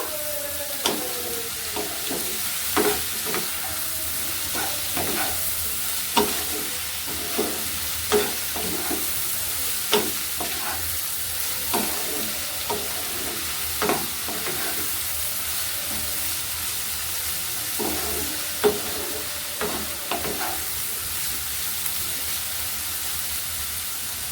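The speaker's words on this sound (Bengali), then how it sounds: "খুব ভালো করে মিশিয়ে ভাজা ভাজা করে নেব।" Vegetables seasoned with salt are stirred and fried in a pan: a steady sizzle runs throughout, punctuated by frequent sharp spatula scrapes and knocks, close and fairly loud, with no talking.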